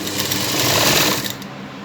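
An electric sewing machine stitches a blouse, a fast, even, continuous whirring hum that runs close and loud, then eases slightly near the end.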